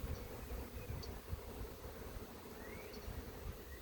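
A dense, steady buzz of many honeybees in a hive hums continuously, close and even, with no voices.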